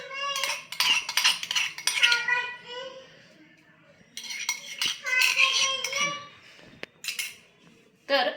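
A spoon scrapes and clinks against a bowl while scooping crushed ridge gourd peel thecha, a series of metallic taps and scrapes heard under ongoing chatty talk, including a voice.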